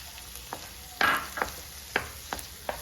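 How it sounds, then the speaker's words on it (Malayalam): Chopped tomatoes and onion for soya chunks masala sautéing in a pan, with a steady quiet sizzle under a few sharp scrapes and taps of a spoon stirring, close up and without talk. "ഇനി നമ്മുടെ തക്കാളി നന്നായിട്ട് വഴണ്ട് കിട്ടണം"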